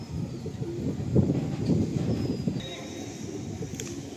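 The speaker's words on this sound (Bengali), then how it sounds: "এটা হলো মেল পায়রাটা।" Soft, low cooing from a male Black Madrasi pigeon, a steady murmuring run of coos held close over faint background noise.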